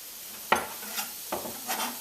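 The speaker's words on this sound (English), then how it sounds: "I'm getting that sizzle already happening because the pot was already warm" Garlic and onion hit a warm pot with a sharp sizzle, then a second burst of frying and stirring follows, close and fairly loud.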